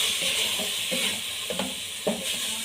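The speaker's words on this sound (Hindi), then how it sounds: "अब इन्हों को भून लेंगे हम अच्छी तरह" Grated carrots sizzle in ghee in a pot while being stirred, a steady frying hiss broken by several soft scraping strokes of the spoon, close and clear with no talking.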